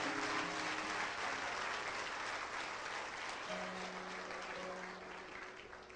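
A church congregation applauding during a sermon, sustained dense clapping from a large crowd at steady volume that tapers gradually, with faint sustained tones underneath.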